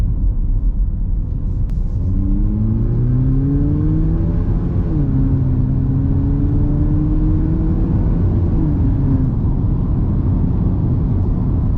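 A 2023 Haval H6 GT accelerates onto the open road, its engine note climbing in pitch through several gear changes over a steady, loud cabin road rumble.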